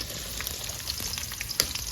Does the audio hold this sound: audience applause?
no